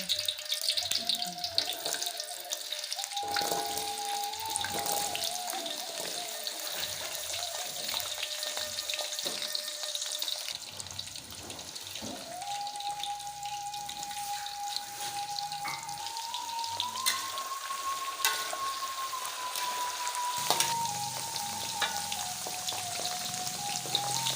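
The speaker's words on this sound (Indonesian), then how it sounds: "Ini kentang dulu kita masak ya." Potatoes fry in a pan with a dense, continuous crackle and hiss that runs unbroken from start to finish, while a faint tonal hum wavers in the background.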